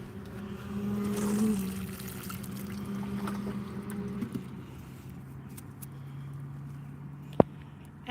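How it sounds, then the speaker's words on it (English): Water poured from a watering can or jug onto the soil of a newly planted plant, a soft steady pour over a low background hum, ending with a brief click. "I'm going to give it another little drink of water."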